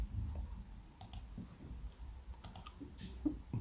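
Several sharp, separate computer mouse clicks, including right-clicks, spaced irregularly over a few seconds against a quiet, slightly hissy room.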